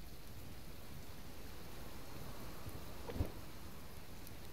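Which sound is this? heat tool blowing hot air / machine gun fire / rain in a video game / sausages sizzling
rain in a video game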